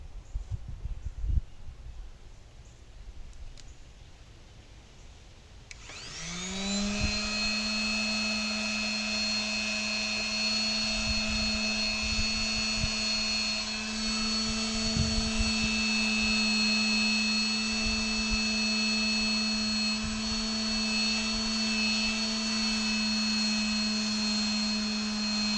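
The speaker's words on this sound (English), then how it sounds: "let's get to sanding this" Cured resin on a tropical beach terrain piece being worked with a power sander that whirs up to speed after a few quiet seconds, then holds a steady, loud, high whine, with faint scraping and knocks underneath.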